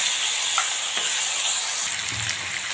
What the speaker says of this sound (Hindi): प्याज और टमाटर हम पका रहे हैं